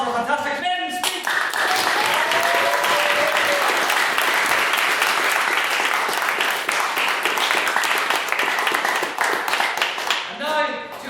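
Sustained audience applause fills the hall after a maiden speech at a formal debate, dense and loud from start to finish, with voices briefly audible at the opening and close.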